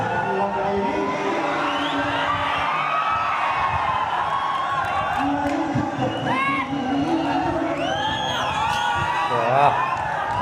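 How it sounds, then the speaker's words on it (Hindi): A large, dense crowd cheers and shouts at a live stage performance, a continuous loud roar with whoops and high calls rising above it, and people talk over the noise. "काफी भीड़ है यार, इसीलिए इतना आवाज आ रहा है"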